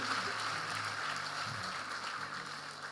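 An audience at a church gathering claps together in a dense, steady patter of applause that carries on evenly throughout, moderately loud and slightly distant.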